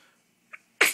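One sharp, close sneeze bursts out at the end, preceded by a faint breath and a small catch of air.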